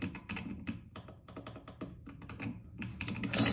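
Rapid keystrokes on a Silakka54 budget prebuilt split keyboard fitted with brown switches, a dense run of close, clicky taps with brief pauses and a busier burst at the end, with no talking.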